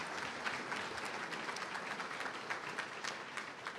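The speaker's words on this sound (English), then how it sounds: "That deserves an applause." Steady audience applause at a university athletics hall of fame induction, a continuous wash of many hands clapping, fairly distant and soft, with no talking over it.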